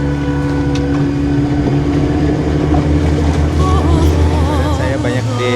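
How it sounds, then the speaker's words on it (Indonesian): A speedboat leaves the beach at Kabare in Raja Ampat, its engine a loud, steady, close drone with wavering whine and rushing water and wind around it. "Speedboat yang saya tumpangi perlahan meninggalkan pantai di Kabare. Mesinnya meraung, memecah sunyinya laut di kala itu."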